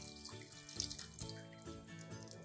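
Boiling water poured from a vessel into a pot of Afghan chicken curry gravy, a steady splashing stream running close and continuous for a couple of seconds with no talk.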